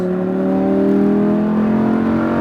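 Lamborghini Huracan accelerating hard on a track course, a loud, steady engine roar whose pitch climbs gradually as revs build, heard up close without interruption.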